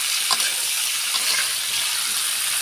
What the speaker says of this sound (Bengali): সুন্দর করে মাংসটা আলুর সাথে ভাজা ভাজা করে নেব।